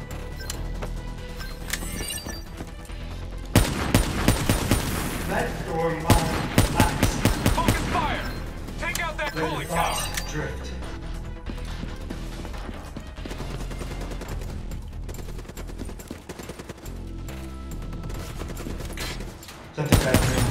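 Rapid automatic gunfire in Call of Duty Black Ops 3, aimed at cooling rods in a tower, comes in dense, loud bursts over a mechanical battle din, with brief pauses between volleys and a voice speaking at times.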